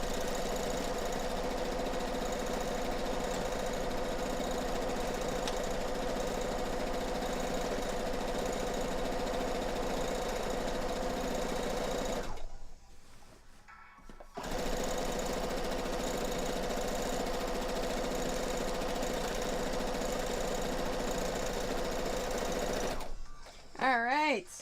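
A sewing machine stitching a quilt top, a steady close mechanical hum and rapid needle rhythm running continuously, with one short pause midway before sewing resumes and stops near the end.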